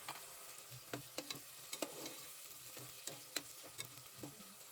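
Tomatoes and chopped onions frying together in a pan, a soft steady sizzle broken by sharp scraping stirs and ticking spatula taps at irregular intervals, quiet and close with no talk.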